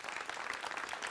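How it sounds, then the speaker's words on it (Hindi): An audience at an event on the Ayodhya Ram temple flag hoisting applauds to welcome Kanhaiya Mittal, giving a steady, dense wash of clapping that lasts the whole short moment with no voices over it. "जोरदार तालियों"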